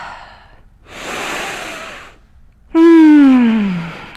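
A deep breath during a yoga session: a long soft airy inhale, a pause, then a loud voiced sighing exhale that falls in pitch, close to the microphone.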